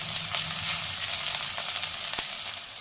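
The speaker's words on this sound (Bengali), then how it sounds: "আলু পেঁয়াজটা একটু ভেজে নিই" Potatoes and chopped onions fry in oil in a pan, giving a steady, bright sizzle with occasional clicks from a stirring utensil, one sharp tap near the end, close and without talk.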